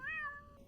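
A single cat meow from the Tailor Simulator video game, a clear, rising-then-falling call lasting under a second, close and alone with no talking.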